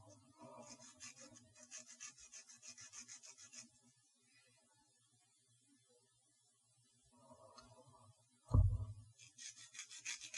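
Soft, steady rasping of an emery board sanding a pressure-treated bamboo skewer, in quiet repeated strokes, then a pause and a sharp knock before the rasping resumes.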